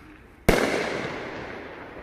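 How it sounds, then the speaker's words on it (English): A Raccoon Fireworks Uncle Sam 9-shot willow cake fires once: a sudden sharp boom, then a long, fading crackling hiss as the willow burst trails away. "Uncle Sam Raccoon Fireworks. 9-shot. Noab. Beautiful willow."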